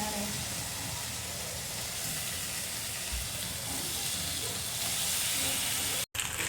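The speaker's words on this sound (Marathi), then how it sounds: "आणि मग हा पास्ता आपण टाकणार आहे" Pasta tossed into a hot pan of sauce sizzles in a continuous broad hiss with steam, close and steady, swelling slightly toward the end before a brief cut-out.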